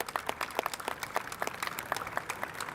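A modest community audience applauding an award from the Black Expo, sparse and uneven, with distinct individual claps popping out at moderate distance rather than a dense roar.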